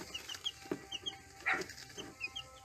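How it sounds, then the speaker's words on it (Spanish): Day-old chicks, hatched in a homemade bucket incubator, peep in short, high chirps, scattered and irregular, with a few soft clucking notes underneath; fairly close and quiet. "Hola Antonio, acá están los pollitos."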